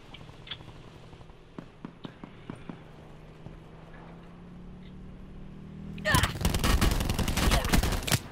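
In a video game shooting match, scattered single gunshots crack at moderate volume before a loud, dense burst of rapid gunfire takes over near the end.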